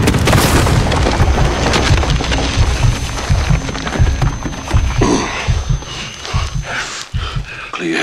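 Missile strikes in Call of Duty Modern Warfare make loud, continuous explosive rumbling with heavy booms and debris crashing across the whole stretch, without any talk.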